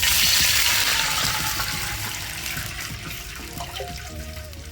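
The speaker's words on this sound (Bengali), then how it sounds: "সর্ষেগুলো ভালো করে ফুটে গেছে, এখানে জল দিয়ে দেবো পরিমাণ মতো।" Water pours into hot oil with popped mustard seeds in a pan for a semolina potato cutlet dough, starting as a loud rushing hiss that gradually fades into a softer bubbling simmer.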